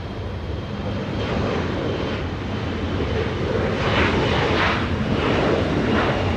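Southwest Airlines airliner landing on runway 24 right at Los Angeles International Airport, a loud continuous engine roar with wind buffeting the microphone, steady throughout without voices.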